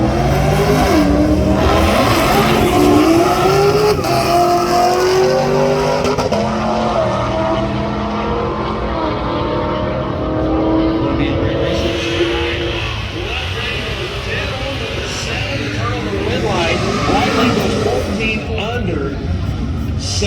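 Street cars drag racing at US131 Motorsports Park roar down the strip with loud, sustained engine howls and tire noise that fade as a second pass builds. An announcer's voice runs over the racket.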